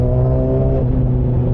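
A car passes close by on a quiet country road, its loud, steady engine whir holding a smooth tone with a slight pitch shift partway through.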